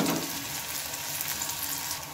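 Finely sliced onion sizzling in hot oil in a pan for cabbage curry, a steady loud frying hiss with light stirring and no talk.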